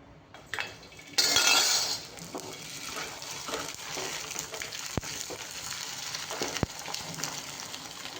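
Khichiya papad deep-fry in a wok of hot oil, a loud burst of bubbling hiss as one goes in, then a continuous sizzle with sharp clinks of a utensil against the metal pan.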